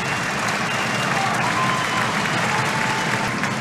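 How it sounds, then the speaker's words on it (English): Ice hockey crowd at a Cardiff Devils versus Manchester Storm game applauds steadily in a large arena, a broad, sustained wash of clapping. "in the 47th minute of the game, a round of applause for Adam Johnson."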